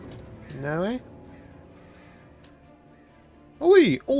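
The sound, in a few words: birds cawing at night in video game Alan Wake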